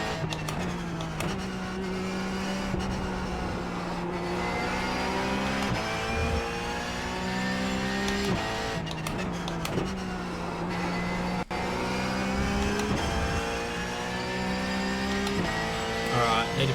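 A Porsche Cup race car in the iRacing game at Monza holds a loud steady engine drone, rising in pitch through the gears with sharp shift breaks, constant and close throughout.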